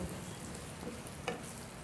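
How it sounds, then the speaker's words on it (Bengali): Spices with raisins and peanuts frying in a pan for bamboo shoot ghanta give a quiet, steady sizzle with a single small pop, fairly faint and without voices. "মশলাটা আমার এখন ভাজা হয়ে এসছে"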